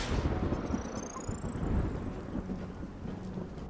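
A thunderstorm with heavy rain during a night at a rough-sea dock in the video game UnMetal: dense, steady rain noise with low rolling thunder rumbles throughout, no voices.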